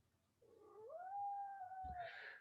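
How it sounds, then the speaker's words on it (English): Cat in season letting out a single long, loud yowling meow that rises and holds before breaking off, with a short thump partway through, in a quiet room. "one of the cats is in season, and so they make a lot of noise"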